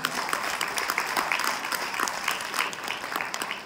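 An audience at a direct-selling business gathering claps steadily and densely for several seconds, a continuous wash of many hands with no pauses.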